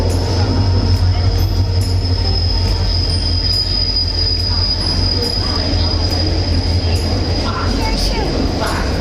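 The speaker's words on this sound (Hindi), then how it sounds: "छुक ट्रेन है मम्मा।" A train rolls through a railway station, a loud steady rumble of wheels with high squealing from the rails running throughout, close by and continuous.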